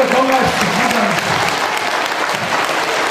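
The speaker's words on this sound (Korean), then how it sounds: "다시 한번 안진희 선생님한테 큰 박수 주십시오" A church audience applauds loudly after comedian Ahn Ju-il's performance at a KBS talent-sharing volunteer show held at Sindeok Holiness Church in Mapo. The clapping is dense and sustained, and a voice speaks over it at the start.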